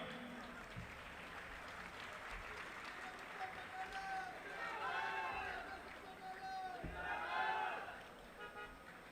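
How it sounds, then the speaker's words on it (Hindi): At an outdoor political rally during a nomination gathering in Dabwali, a crowd applauds and raises slogans, with steady clapping and rising bursts of chanted voices, plus a thud or two, well in the background. "जोरदार नारे और तालियों से स्वागत करें बहन हरसिमरत कौर बादल जी का।"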